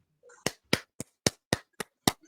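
A football coach claps his hands seven times in a brisk, even rhythm, each clap sharp and close, after a brief murmur at the start.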